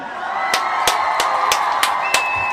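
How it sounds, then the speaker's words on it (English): A congregation crowd claps and cheers in a celebration for children, a steady wash of crowd noise punctuated by regular, loud single claps or beats. "we want to give all of the Kujichagulia babies a round of applause"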